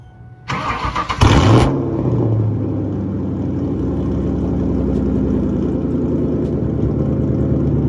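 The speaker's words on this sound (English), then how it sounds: "I think he has an exhaust. Let's hear it." A Mustang with an aftermarket exhaust fires up with a sharp loud burst, then settles into a steady deep rumbling idle that continues throughout.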